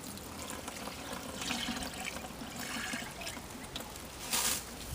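Water poured slowly through a cloth or old t-shirt to filter natural clay, a steady soft trickle and splash running for several seconds with a brief louder gush near the end, no talking.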